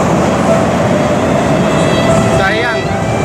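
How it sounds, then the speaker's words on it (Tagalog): Inside a Manila MRT metro train, a steady loud rumble of rolling carriage and motor noise fills the cabin throughout, with a brief wavering tone near the end. "Next stop, MRT."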